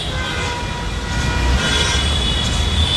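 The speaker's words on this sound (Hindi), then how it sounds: "गाइस, मेट्रो जा रही है," A Delhi metro train passes on a city street near the Kashmiri Gate bus terminal, a steady, loud rumbling roar of rolling carriages that holds throughout over background road traffic.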